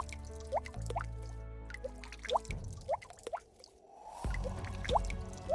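Water drops from melting icicles fall and plink at an irregular pace, each a short bright drip over a faint background.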